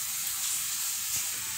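Canjica, a Brazilian corn pudding, boiling in a pot, giving a steady close bubbling hiss with a soft low pop near the end.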